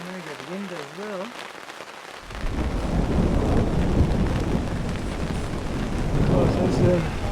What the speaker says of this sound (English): There's a good thunderstorm coming.